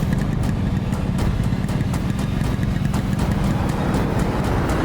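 A car engine drones steadily close by, a dense low rumble with faint rhythmic ticking that holds at a constant level for several seconds, with no talking.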